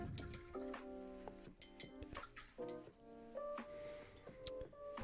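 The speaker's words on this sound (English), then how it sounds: "now rinse our brush" A watercolor paintbrush is rinsed in a water container, making a few quiet, close clinks and taps of the brush against the container along with small splashing sounds.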